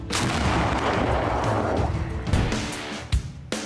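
A heavy mortar shot booms and echoes, followed by rumbling reverberation and a couple of sharper cracks near the end.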